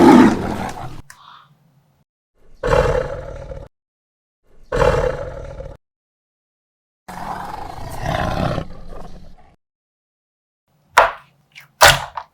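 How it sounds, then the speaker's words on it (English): A tiger gives a series of loud, deep roars, four long separate bursts with pauses between them, followed by two sharper short calls at the end, with no talking. "That's a tiger."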